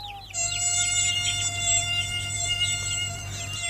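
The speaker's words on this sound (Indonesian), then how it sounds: "Ini suara nada dering HP-ku." A mobile phone ringtone styled as a mosquito whine plays alone, a steady high buzzing drone with wavering pitch sweeps layered over a constant low hum, sustained for several seconds without talk.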